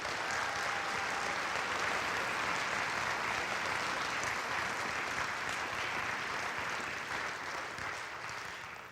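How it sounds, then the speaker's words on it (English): Sustained audience applause fills a high school orchestra concert hall, steady and dense throughout before tapering slightly at the end. "let's give these folks a round of applause"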